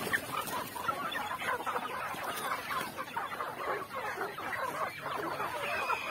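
Chickens clucking in a yard, a soft, scattered chorus of short clucks and murmurs at a moderate distance, steady and fairly quiet throughout.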